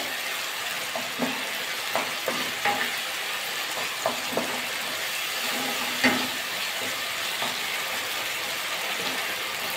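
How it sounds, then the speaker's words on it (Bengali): Spice paste stir-fried in oil in a pan for a Bengali mixed vegetable dal, a low steady sizzle broken by repeated scraping and tapping stir strokes, close and without talk. "ভালো করে মশলাটা কষিয়ে নিতে হবে।"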